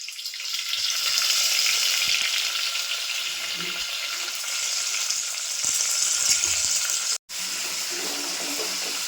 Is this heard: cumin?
yes